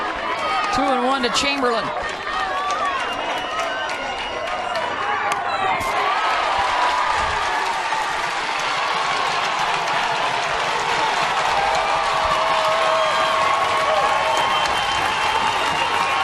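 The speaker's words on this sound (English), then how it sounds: "The Rhodes House crowd immediately responds" Crowd at a college softball stadium during an Oklahoma vs Alabama Super Regional game cheers and applauds loudly and steadily throughout, with a commentator talking over the roar.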